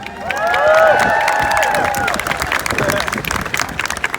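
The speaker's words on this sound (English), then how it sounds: "A round of applause for Max Suzuki." A crowd at a poutine eating competition claps and cheers for a contestant. The noise swells quickly to a loud roar, then settles into ongoing applause, with shouts and voices mixed in.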